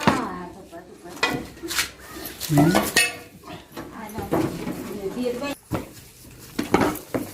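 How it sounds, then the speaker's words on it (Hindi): Hot jaggery made from sugarcane is stirred over and over, giving close clinks, scrapes and wooden knocks against a pan while a person talks over most of the stirring. "इसको बार बार मिक्स किया जा रहा है, देखिए, ताकि ये इसकी गर्मी निकल जाए"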